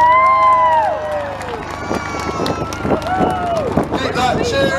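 Spectators at the Rhyl Airshow 2022 cheer and whoop loudly across the whole stretch, a dense outdoor crowd roar with wind buffeting the microphone and an announcer talking over it.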